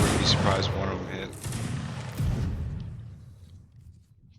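Musket fire at long range in the video game Mount & Blade, a quick volley of sharp shots at the start followed by more reports that echo and fade away into quiet.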